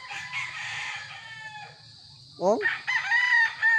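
Gamefowl roosters at a game farm crow loudly and nearby, one long crow followed by more, over low clucking, with a brief spoken interjection.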